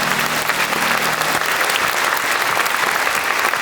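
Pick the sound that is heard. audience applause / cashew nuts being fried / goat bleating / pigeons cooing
audience applause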